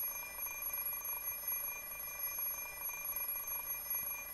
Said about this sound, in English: I peer at the alarm clock through sleep-heavy eyelids.